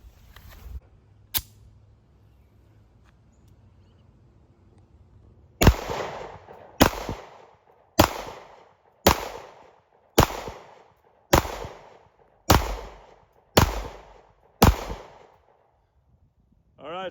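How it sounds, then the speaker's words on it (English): A Tisas 1911 Tank Commander 9mm pistol fires nine loud sharp shots at a steady, roughly one-per-second pace outdoors after a single earlier shot, with no talking. "So let's shoot a few more through here."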